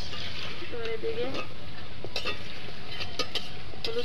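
Khasta gaja, a crisp sweet pastry, fries in hot oil with a steady soft sizzle and bubbling, broken by occasional stirring scrapes and clicks in the pan.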